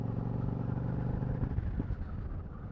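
A motorcycle engine revs close by as gears shift, a loud rumbling drone that rises, dips briefly around the shift, then pulls again, with no talk.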